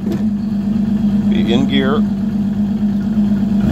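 An Evinrude E-TEC outboard engine with a sticky throttle idles steadily, then revs up briefly and races a little higher before settling back, close and loud, with someone talking over it.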